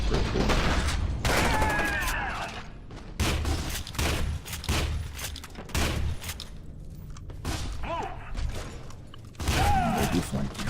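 Slow-motion gunfire in the PC shooter FEAR 2: Project Origin, a series of heavy, drawn-out booming shots with stretched echoing tails and mechanical clatter, loud and repeated at irregular intervals with brief gaps between bursts.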